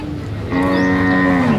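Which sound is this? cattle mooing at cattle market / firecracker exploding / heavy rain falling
cattle mooing at cattle market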